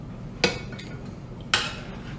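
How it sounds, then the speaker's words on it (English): Two sharp metal-on-pan clinks about a second apart as a utensil scoops roasted sweet potatoes out of a pan, each a brief clear strike over quiet kitchen background, no talking. "So I'm gonna go ahead and just kind of scoop these out"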